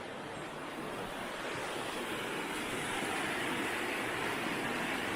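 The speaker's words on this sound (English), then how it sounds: "The river's flowing pretty quick with all the rain we've had lately." A fast river swollen by recent rain rushes in a steady, broadband roar that stays close and loud throughout, with wind buffeting the microphone and no voices.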